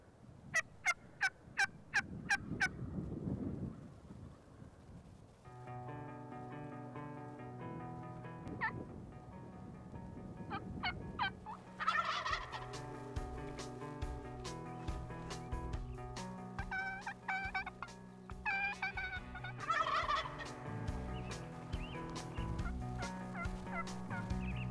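Wild turkeys gobble repeatedly from a distance, their rattling calls rising over a steady outdoor background with music-like tonal layers throughout.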